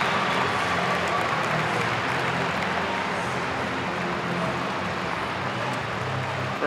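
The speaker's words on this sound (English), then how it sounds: "Victoria Long being saluted by the crowd as she leaves the floor here" A crowd applauds steadily and evenly as strongwoman athlete Victoria Long leaves the floor after the Rogue Elephant Bar deadlift at the 2024 Arnold Strongwoman Classic, a broad wash of clapping throughout.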